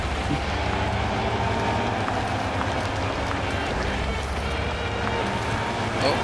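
Heavy off-road truck ploughing through water in Spintires: MudRunner, with a steady, continuous churning rumble and wash of splashing noise, loud and unbroken, with low engine drone and no voices.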